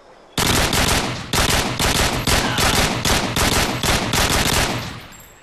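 Rapid automatic gunfire in a first-person shooter game, loud close bursts repeating in an even pulsing rhythm for several seconds before tapering off, no voices.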